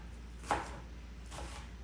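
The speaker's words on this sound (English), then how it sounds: "We're just chopping things while we talk." A knife chops vegetables for a chopped salad, giving two soft, separate cutting strokes about a second apart at low volume. No one speaks.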